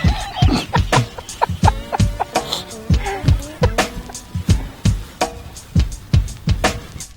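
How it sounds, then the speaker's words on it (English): Birds call outdoors at close range, giving a busy run of short clucks, clicks and chirps in an uneven rhythm that carries on throughout. "the two birds we've been listening to all afternoon trying to work come in from behind us"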